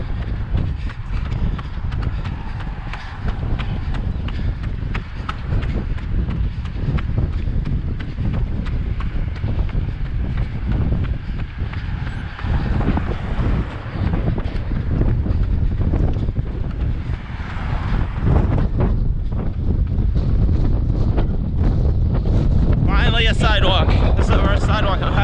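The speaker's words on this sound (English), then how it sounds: "windy on the bridge" Strong wind buffets the microphone on an exposed bridge on Gajo Island, South Korea, during a run, a loud continuous roar with gusts throughout and footsteps beneath it.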